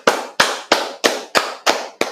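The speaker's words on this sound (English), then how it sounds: "let's go ahead and clap it up" A small group claps in unison at a street gathering of the Israelite School of Universal and Practical Knowledge, seven sharp, evenly spaced loud claps in a steady slow rhythm, with no talk over them.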